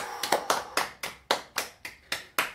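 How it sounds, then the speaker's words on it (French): Evenly spaced loud claps from one or two people after a cross-training workout, about eight sharp slaps in a steady rhythm, each ringing briefly in a room. "on peut vous applaudir."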